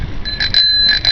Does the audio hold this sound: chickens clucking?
no